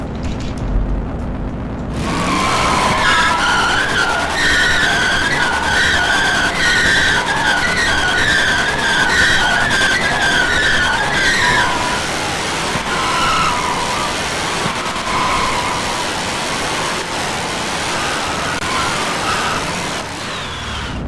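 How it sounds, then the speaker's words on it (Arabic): Drift-mod tire skidding in the FiveM video game, a loud sustained screech with whining engine tones that starts abruptly after a brief quiet moment and holds steadily, easing slightly toward the end. "الصوت تاع الاراسات تبدل كاع ما بقاش كيما كان الصوت"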